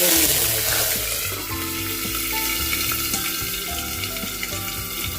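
Crushed garlic cloves and mustard seeds crackle and sizzle steadily in hot oil in a kadhai, a dense continuous frying hiss with a few stirring clatters and no voices.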